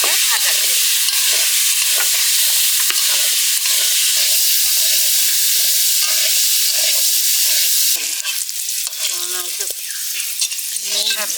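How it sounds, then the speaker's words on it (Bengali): Papaya pieces fry in hot oil in a pan with a loud, steady sizzle and frequent scraping stirs, close up and without speech. "এবার আমি দিই পরিমাণ মতো এটাকে ভাজা করে নিই"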